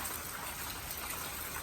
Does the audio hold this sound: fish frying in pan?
no